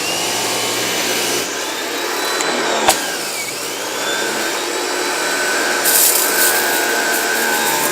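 A Blue Clean electric pressure washer runs with a steady, fairly loud mechanical whir and hiss, spinning up after being switched on, with a brief sharp knock partway through and a slight swell in level near the end.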